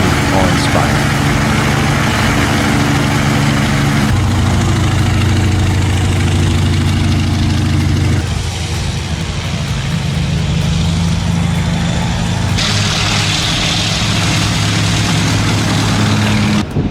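An old An-2 aircraft's big radial engine runs with a loud, low, rumbling drone that shifts pitch in steps as it revs, continuous and close throughout.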